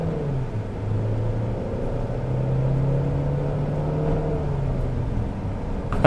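Jetour X70 Plus SUV accelerating in manual mode using paddle shifters, a steady low engine drone with a rising and falling tone, heard continuously from inside the cabin with no talking.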